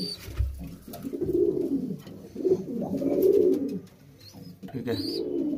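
Madrasi pigeons cooing close by in a repeated series of low throaty coos, fairly loud, with faint chirps between calls.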